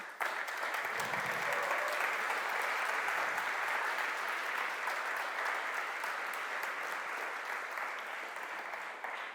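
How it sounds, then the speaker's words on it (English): Sustained audience applause fills a conference hall at the revo.js 2023 JavaScript event, a dense, even wash of clapping that carries on without a break for several seconds. "I would very much like to acknowledge them with a huge round of applause to the core team"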